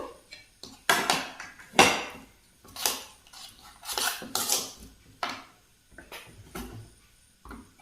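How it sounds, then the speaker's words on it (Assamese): Momos go one by one into a metal pan with onion and gravy and are stirred, giving a run of sharp irregular clinks and scrapes of utensil on pan, close and fairly loud, with brief quiet gaps between. "এটা এটাকৈ মম' মই দি দিছোঁ আৰু সুন্দৰকৈ এয়া মিক্স কৰি দিছোঁ"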